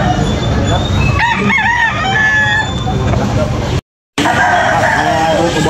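Roosters for sale at a busy chicken market crow loudly and repeatedly, with overlapping cock-a-doodle-doos, clucking from other fowl and a constant crowd murmur.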